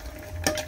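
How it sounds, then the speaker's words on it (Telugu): Dry fruits frying in ghee for a sweet, a low continuous sizzle with a brief louder scrape or stir partway through, close and quiet, with no talking. "ఇవి వేయించుకోవాలి దూరగా."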